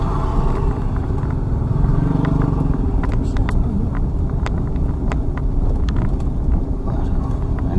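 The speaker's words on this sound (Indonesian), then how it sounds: "Motor lagi, pas-pasan dengan motor lagi." A motorcycle passing a 2015 Toyota Avanza on a village road, with the passing engine rising slightly over the car's steady interior rumble and wind noise, and occasional clicks and bumps throughout.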